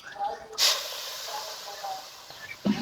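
Water poured onto sugar melting in a hot wok bursts into a sharp hiss. A softer steaming sizzle follows and trails on.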